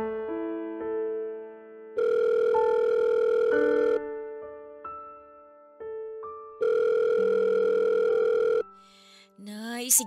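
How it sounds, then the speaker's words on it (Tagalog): Telephone ringing with an incoming call: two long, loud electronic ring bursts separated by quieter melodic tones, clear and close, ending in a brief rising sound. "Sagutin niyo na po yung tawag."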